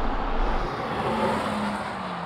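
Two hot hatches, a VW Golf GTI Mk2 and a VW up! GTI, in a drag race: a sustained, close engine roar with a steady climbing tone as one car pulls hard under acceleration.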